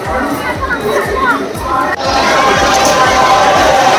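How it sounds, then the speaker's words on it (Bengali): A dense crowd of passengers hurrying along a busy railway platform on the Howrah to Digha express route, a constant loud hubbub of voices, shouts and footsteps with people talking throughout. "আর এত ভিড়, সবাই দৌড়ুচ্ছে, সব দৌড়াচ্ছে দেখতেই পাচ্ছ"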